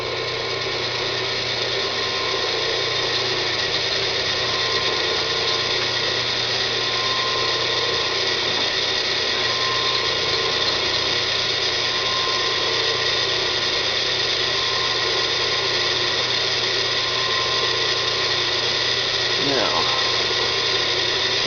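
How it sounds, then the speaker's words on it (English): A steady, continuous whine of an electric drill boring a centering hole for an LED in a Leupold Zero Point sight, running throughout, loud and close, with no pauses. "we're going to drill our centering hole"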